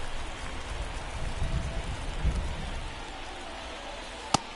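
Steady rain in MLB The Show baseball video game, a constant dense hiss of falling drops with a sharp click near the end.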